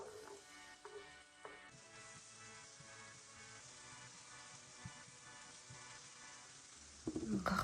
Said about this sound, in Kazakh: Мына етіміз жақсы етіп қуырылып жатыр екен.